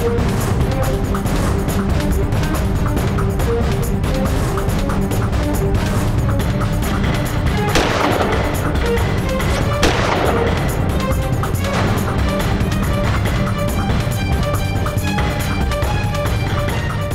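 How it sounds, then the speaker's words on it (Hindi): Rapid bursts of gunfire crack over a dense, loud backdrop of music and rumble in a TV drama scene, with a couple of sharper blasts standing out midway. "इतनी पास से 2 गोलियां केडी की छाती में और वो भी जिंदा है।"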